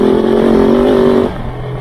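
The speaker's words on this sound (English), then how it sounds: "you can hear it's got a very throaty induction noise" Kove 450 Rally motorcycle engine with a throaty induction roar, a loud steady buzzing drone held briefly before dropping to a lower idle.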